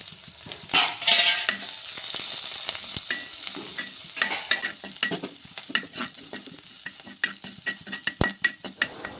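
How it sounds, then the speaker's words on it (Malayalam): Dried chillies, onion, green chillies and curry leaves sauté in hot oil in a pan, a steady sizzle broken by repeated scraping and stirring strokes of a spoon, close and without talk. "വറ്റൽമുളകും ഉള്ളിയും പച്ചമുളകും കറിവേപ്പിലയും കൂടി ഇട്ട് വഴറ്റിയെടുക്കാം"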